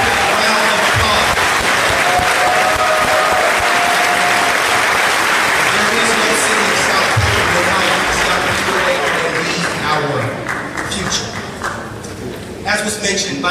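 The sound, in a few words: audience applause for students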